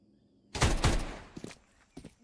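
Tec-9 pistol fired in a competitive shooter match: a quick pair of sharp shots near the start, followed by a couple of softer trailing bursts, against near silence.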